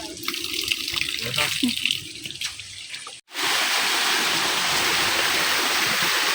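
Fresh spring water flows, first as a rushing stream under faint voices, then after a brief cut as a louder, steady close-up gush.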